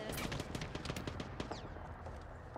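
Gunfire in the Apex Legends video game, a quiet stretch of rapid overlapping shots and bursts throughout, with no one talking.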